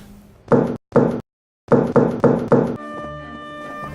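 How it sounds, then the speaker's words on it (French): Knuckles rap on the wooden door of an odd house reached through snow: two firm knocks, a short pause, then four more in quick succession, followed by a sustained tonal hum. "Il frappa contre le bois de la porte et entra."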